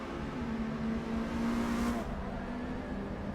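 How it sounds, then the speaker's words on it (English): Touring cars race past during the 12 Hours of Nürburgring endurance event: a loud, continuous engine roar that swells toward the middle as the cars go by, then eases slightly, with no talking. "Several TC cars going by."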